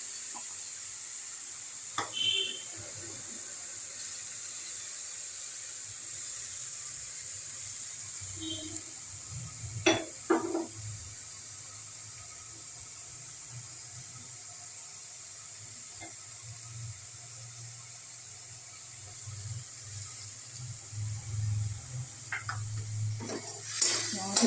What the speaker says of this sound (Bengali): টমেটো বাটাটা পেঁয়াজের সাথে মিশিয়ে নিচ্ছি